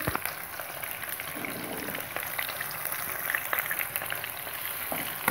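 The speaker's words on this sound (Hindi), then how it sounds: "जैसे हमारे प्याज फ्राई हो रहे हैं।" Chopped onions fry in hot oil with curry leaves and cinnamon, giving a steady, soft crackling sizzle with scattered pops, close by and alone without any voice.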